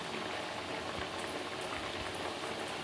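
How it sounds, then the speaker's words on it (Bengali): Mung-Madhuri pithe fry in hot oil in a pan, giving a steady, dense crackling sizzle that stays even and fairly faint throughout. "এইভাবে সব পিঠেগুলো ভেজে নেব"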